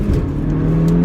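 A 2012 Audi S3 Black Edition Quattro pulls hard during a 0-60 run, its engine a loud, steady low drone heard from inside the cabin with a rising whine laid over it.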